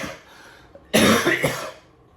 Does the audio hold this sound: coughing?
yes